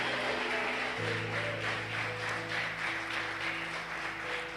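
A church congregation applauds during a family worship service, giving steady, fairly soft clapping under a low sustained organ or keyboard tone, with no one speaking over it.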